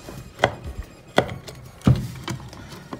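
Screws are worked loose from an old super tweeter, giving three or four sharp, dry clicks and creaks spaced about a second apart, close by and fairly quiet.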